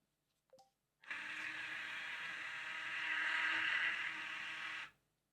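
Thymio robot's small motor whirring at close range: a brief click and beep, then a steady high-pitched electric whine for about four seconds that rises slightly before cutting off abruptly.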